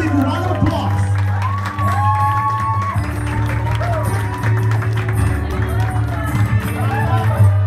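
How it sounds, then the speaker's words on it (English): A crowd at an 18th birthday debut celebration cheers, whoops and claps loudly and continuously, with shouting voices and background music mixed into the lively din. "Let's give them a big round of applause."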